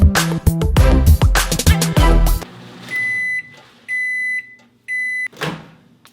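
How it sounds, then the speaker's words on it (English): A microwave oven heating water for tea runs with a steady hum after loud kitchen clatter, then gives three clear, evenly spaced beeps at close range, with no talk. "I heat up the water for my tea in the microwave"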